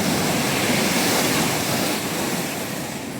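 Floodwater rushes past a broken dam wall in a loud, unbroken roar of churning water that holds steady throughout, with no voices.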